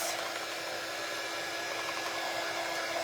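Close, steady rushing whir of a hair dryer blowing on a paper snowflake cutout, continuous and even throughout with no speech.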